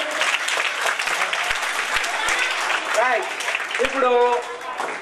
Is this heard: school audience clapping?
yes